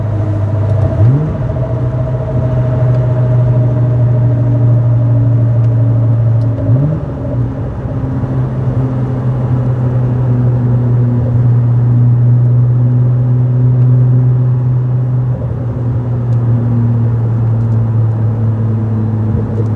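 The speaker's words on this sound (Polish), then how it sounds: "jest twardsza zmiana biegów, jest wycięcie zapłonu, jest jakieś tam purchnięcie w wydech" BMW fitted with a MaxxECU-controlled DCT gearbox driving, its loud engine droning steadily at close range, with two quick rises in engine pitch as gears drop and a faint exhaust note between them.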